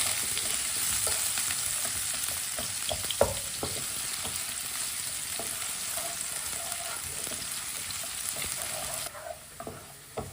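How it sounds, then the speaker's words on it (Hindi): Finely chopped onion fries in a pan until lightly browned, giving a steady, dense sizzle with occasional stirring clicks and scrapes, close and continuous. "एक बारीक कटा हुआ प्याज, प्याज को हल्का सा ब्राउन कर लेंगे।"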